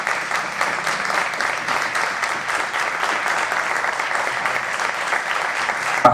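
An audience at a talk event applauds a speaker with steady, dense clapping that holds at an even level throughout, loud and close, with no voices over it.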